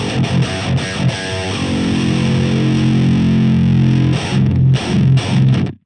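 Electric guitar through a Fortin Grind patch on an AX8 with an FET boost and low end cut, heavy distorted chugging and sustained chords with short choppy stops near the end, loud and close.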